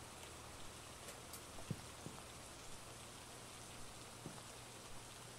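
Steady rainfall in the video game Phasmophobia: a soft, continuous hiss of rain on surfaces with a few faint drop ticks and a low background hum, no voices.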